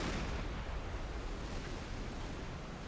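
Torpedo striking a ship in the submarine game Silent Hunter 5: a loud, sustained low rumbling blast with broadband roar that fills the whole moment and slowly tapers, with no talking over it.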